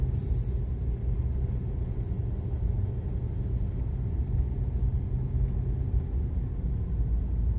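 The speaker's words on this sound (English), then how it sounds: "Yet again, another lorry." A lorry rolls slowly along a road in Java, giving a steady, close, low engine rumble that stays even and unbroken throughout, with no voices.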